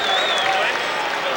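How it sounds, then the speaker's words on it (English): A crowd of basketball fans cheers behind the bench at a 1990 Class D high school final, a steady, dense roar of voices with no gaps. "doing a little cheering behind the bench"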